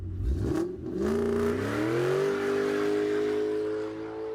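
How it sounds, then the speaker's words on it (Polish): A sampled car acceleration in a rally and drift style opens with a quick rumble, then an engine note sweeps upward in pitch and holds a sustained high whine before easing off, heard alone without talk. "dodamy tutaj dźwięk, właśnie akcelerację, właśnie dźwięk dodawanego gazu, coś właśnie z elementów rajdowych, driftowych"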